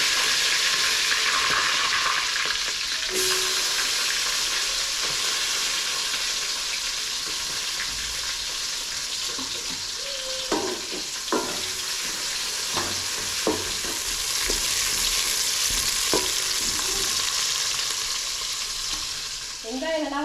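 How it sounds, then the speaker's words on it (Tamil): Curry leaves and onion fry in hot oil for a crab curry, giving a steady close sizzle throughout with occasional stirring scrapes and clinks in the middle stretch and no talking. "கருவேப்பிலை வெங்காயம் ரெண்டையும் சேர்த்துக்கிறேன்."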